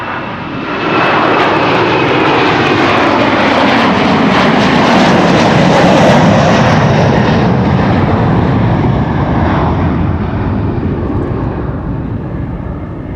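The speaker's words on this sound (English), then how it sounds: "Here's the Delta Airlines flight 163 to Minneapolis, Minnesota" Delta Airlines jet airliner at Amsterdam Schiphol Airport, a loud, sustained engine roar that swells quickly and stays powerful and close throughout, fading only slightly at the end.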